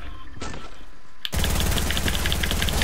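Rapid SMG fire in a video game, a sudden burst of dense, evenly spaced shots that starts partway through and continues loudly to the end after quieter clicks.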